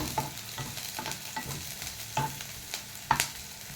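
Onion and mint leaves frying in a pan, heard as close stirring scrapes in an uneven rhythm over a soft sizzle, with a few sharper utensil knocks near the end and nobody speaking.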